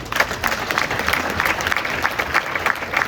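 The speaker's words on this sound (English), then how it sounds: "a big round of applause for the kids" Audience clapping at a youth boys' soccer banquet, a room full of hands applauding the kids in a continuous, moderately loud patter with slight swells, no voices on top.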